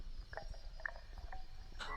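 Crickets chirping in a still night setting, a dense continuous insect drone with several brief sharper chirps rising out of it, steady and fairly faint throughout.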